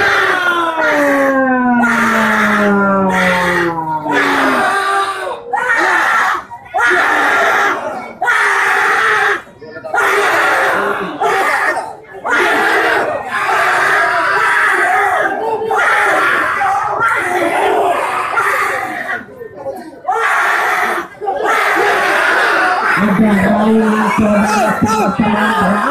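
Spectators scream and shout through a tug of war contest, with a loud, sustained crowd roar broken by short gaps and punctuated by whoops and battle cries while an announcer talks over it.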